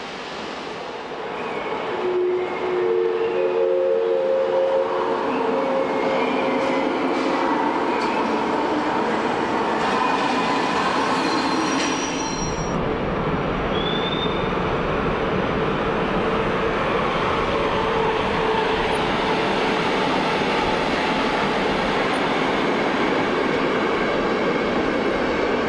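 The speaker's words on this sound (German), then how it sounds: "Wieder ist ein Zug zur Abfahrt bereit. Es ist ein D-Zug nach Berlin," An express train departs Leipzig Hauptbahnhof for Berlin in the 1990s, pulling away with a rising rumble and rail noise that swells into a steady, loud roar of carriages rolling past, with a brief high squeal midway.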